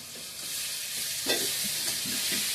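Sun-dried vegetables, sundakai, fry in a pan for village-style mutton sambar, giving a steady close sizzle with scraping stir strokes that rise and fall throughout. No one speaks.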